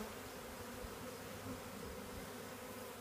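A swarm of bees drones in a dense, steady hum at close range, unbroken throughout, with no talking.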